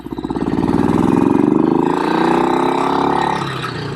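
A BSA Victor Special 441 single-cylinder motorcycle engine runs loud and close, its rapid thumping pulse climbing in pitch as it revs, then easing off.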